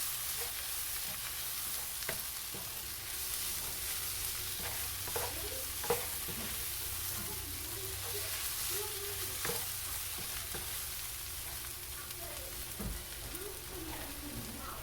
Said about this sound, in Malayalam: നമുക്കിനി തേങ്ങ ഒന്ന് ഇതിലേക്ക് മിക്സ് ചെയ്ത് കൊടുക്കാം